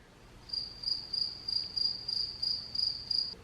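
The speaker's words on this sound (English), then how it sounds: "That's actually a real cricket." A real cricket chirps indoors, close and loud, in a steady run of evenly spaced bursts over faint background hum, with no talking.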